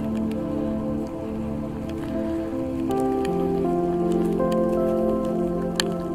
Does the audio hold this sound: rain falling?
yes